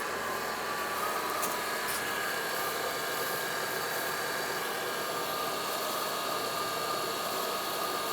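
A 2002-2009 Chevrolet Trailblazer engine runs steadily while warming up to operating temperature, making a constant broadband hiss and hum at close range with no break in level.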